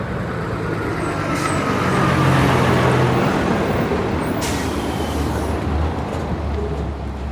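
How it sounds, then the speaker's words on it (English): A Peterbilt truck hauling home demolition debris slows with its Jake brake, a loud, sustained engine-braking rumble close by that swells midway and then eases, with faint traffic noise around it and no talk. "Hit the Jake brake."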